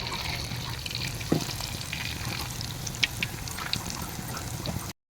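Shrimp pakodi deep-fries in hot oil over a medium flame, giving a steady, close bubbling sizzle with a few brief clinks of a ladle. The frying noise stops abruptly at the end.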